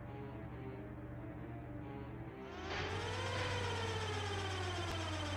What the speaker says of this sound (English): Oh no, we've set off the alarms.